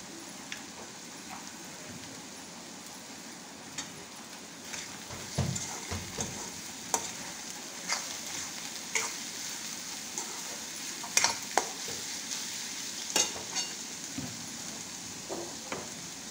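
Kantola vegetable cooks with onion and a little salt in a pan, giving a soft, faint steady sizzle with scattered sharp clicks and occasional stirring scrapes, heard alone without talk.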